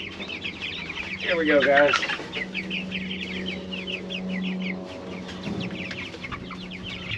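Cornish cross chickens clucking and chattering in a pasture, a busy chorus that swells briefly, over a low steady hum, with a person speaking briefly.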